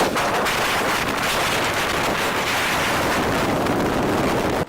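Strong wind buffets a sailboat at sea while waves slosh around the hull, a loud, constant roar with gusty microphone rumble and no voices.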